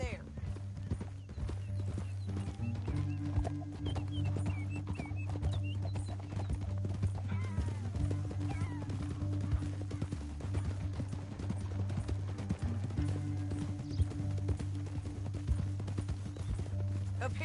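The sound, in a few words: horses riding, hooves clip-clopping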